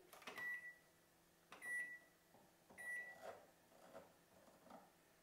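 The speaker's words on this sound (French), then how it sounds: "Je vais mettre la minuterie." A kitchen timer is set while apple filling simmers for a galette, giving three short, sharp electronic beeps roughly a second apart amid faint clicks and handling noise in a quiet kitchen.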